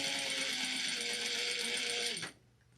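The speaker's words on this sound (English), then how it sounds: "you can top stitch the very top at 1/8 of an inch on all your cards" Sewing machine top stitching raw vinyl on a lanyard, a steady close, loud mechanical whir that stops abruptly near the end, leaving a faint background.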